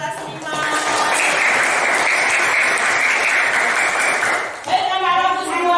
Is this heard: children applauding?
yes